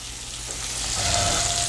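Liver sizzling in a hot pan, a steady, close frying hiss and crackle that grows slightly louder across the short stretch, with no voices.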